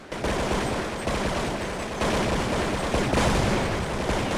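Gunfire from a Counter-Strike match on de_nuke, with dense sustained bursts of shots fired in rapid succession, loud and continuous, with no clear pauses.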